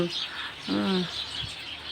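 Faint, brief house sparrow chirps sound outdoors, a couple of short tweets against quiet background noise.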